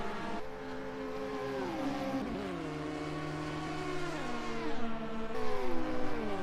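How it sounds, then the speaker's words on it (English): Race cars in rFactor 2 during an endurance event with LMP2, GTE and GTC classes roar continuously, engine notes rising and falling through gear changes as several cars run close together down a straight, loud and steady with no talk. "Timothy Goa doesn't get as good as a run. He will still get the slipstream."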